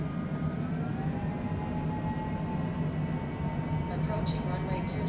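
Cessna light aircraft engine holding a steady, loud drone with a rising tonal whine at the start of its takeoff roll on runway 20 right at John Wayne/Orange County airport, continuous throughout with faint radio-like chirps near the end.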